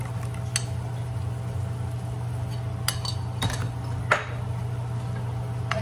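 Cashew paste being added to fried, mashed tomatoes in a pan for egg curry: a few sparse, light clinks and scrapes of a spoon against the pan over a steady low hum.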